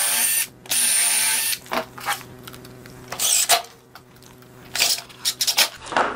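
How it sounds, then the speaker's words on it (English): Power drill driving screws into plywood in a woodworking shop, with several short bursts of whirring and pauses between them, close and fairly loud. "Running a couple screws in so they don't hit the blade."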